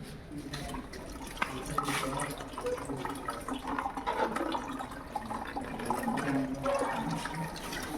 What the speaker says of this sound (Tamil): டேங்க்லேருந்து வர தண்ணியை திறந்து விட்றேன்.